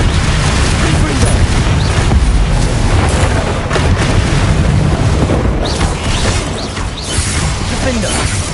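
Fire explosion spells in the Hogwarts Legacy video game: loud, dense booming blasts and crackling bursts overlapping one another in a continuous barrage of combat noise, with shouted spell voices over them.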